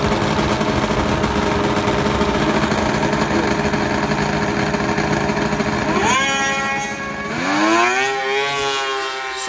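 Yamaha turbo two-stroke drag snowmobiles race at a snowmobile and motorcycle drag event, their engines roaring in a loud sustained howl that climbs sharply in pitch as a sled launches and accelerates hard down the track.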